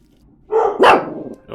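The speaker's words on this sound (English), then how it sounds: "Oh, they're not done barking yet." A household dog gives a couple of loud, close barks in quick succession, sharp and full, heard alone against a quiet room with another bark starting at the very end.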